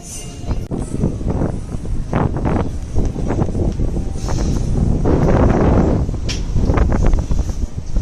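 Gusty wind buffets and roars across the microphone in uneven bursts at an outdoor Christmas market in Arras, with rustling and faint background noise.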